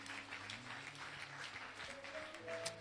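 A church congregation applauds to acclaim the Lord during a service: steady, dense clapping from many hands that fills the room, with a faint hum and a few bright shouts rising over it.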